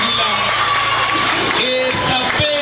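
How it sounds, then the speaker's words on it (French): Students and audience at an inter-school quiz contest broadcast by a community radio station in Kamituga cheer and clap together, loud and close, with shouts and whoops layered over the noise throughout. "On applaudit encore une fois pour nos amis de l'Institut Tanguila."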